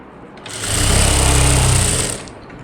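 A sewing machine stitching a blouse: a loud, steady, fast mechanical whir that spins up, runs evenly for about a second and a half, then winds down. No talk.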